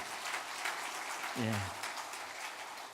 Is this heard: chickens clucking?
no